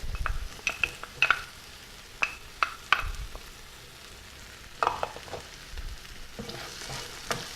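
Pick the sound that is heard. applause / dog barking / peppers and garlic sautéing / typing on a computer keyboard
peppers and garlic sautéing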